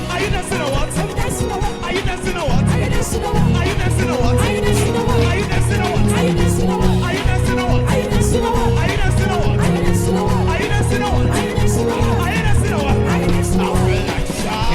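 Loud, dense praise-break church groove with driving bass, drums and organ-like chords pounding in a steady fast rhythm throughout, with no talk over it.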